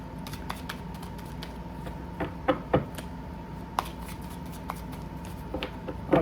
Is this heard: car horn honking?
no